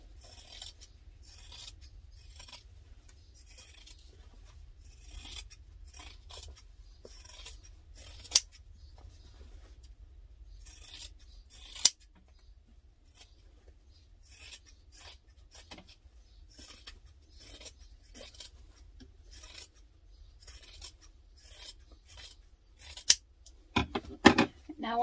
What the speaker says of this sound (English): Now cut that seam allowance down.